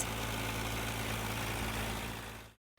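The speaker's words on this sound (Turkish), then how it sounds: "Tarlalarda traktörler de onlara emanet." A tractor engine idles at a steady low rumble with a constant vibrating drone, close and continuous before cutting off abruptly near the end.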